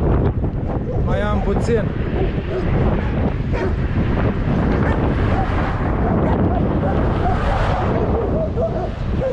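Gusts of wind buffet the microphone of someone cycling along the Bega river toward the Serbian border, a steady loud roar with a dog barking and whimpering faintly near the start and a brief spoken remark.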